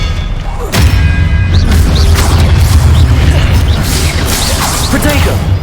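Spell-casting explosions during a duel in the video game Hogwarts Legacy, with a deep booming blast followed by a continuous rumble of impacts, crashes and magical whooshes, loud and close, with voices shouting over the action.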